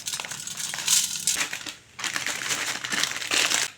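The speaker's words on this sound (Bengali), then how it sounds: "এখন হাত দিয়ে সেমাই ভালো করে গুঁড়া করে নেব।" Dry vermicelli broken and crushed by hand in a bowl, close crinkly crunching in two bursts with a short pause between, no talk, while preparing egg and potato chops.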